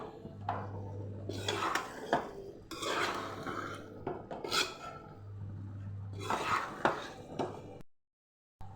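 Cauliflower curry stirred in a pan over a medium flame: irregular scraping and rubbing strokes of a spoon against the metal pan, close and fairly quiet, with a steady low hum beneath.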